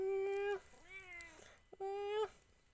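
A cat meows clearly up close at a temple, two drawn-out meows with a softer, wavering one between them, no talk over them.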